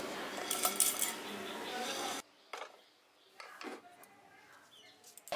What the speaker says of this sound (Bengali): এখানে ভাজা মশলাটা আমি গুঁড়িয়ে নিয়েছি।